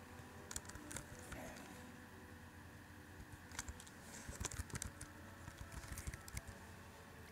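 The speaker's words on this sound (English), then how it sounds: "I'm going to type that one in there" Rapid, irregular clicking of keys on a computer keyboard while a name is typed into a bioinformatics tool entry field, soft close keystrokes in bursts with brief pauses, no talking.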